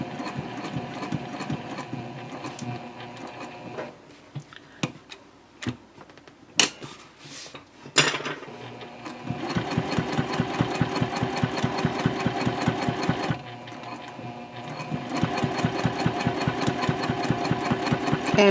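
A sewing machine stitches a tote bag, with bursts of rapid, rhythmic needle clatter that stop and restart, separated by quieter handling clicks and pauses, and no talking.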